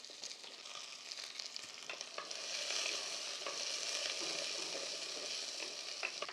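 Shallots frying in hot coconut and refined oil for Kerala beef curry, a steady bright sizzle that swells louder midway as more shallots go into the pan, heard alone without talk.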